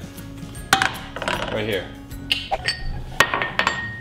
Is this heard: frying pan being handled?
yes